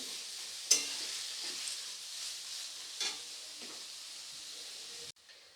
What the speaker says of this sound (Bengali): দেখুন পেঁয়াজটাকে আমি সুন্দর গোল্ডেন কালার করে ভেজে নিয়েছি